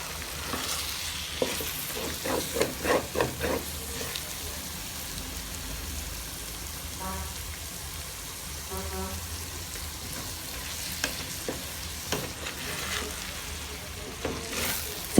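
Ground egusi seeds fry in a pot while a spoon stirs them, giving a soft continuous sizzle with scraping, clustered stirring strokes that come and go at close range.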